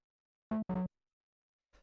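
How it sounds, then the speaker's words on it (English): Rhodes electric piano sample for minimal house, low-pass filtered into a soft pluck: two short notes in quick succession, then a third starting just as it ends, with nothing else around them. "The next sound that we have here is the second Rhodes"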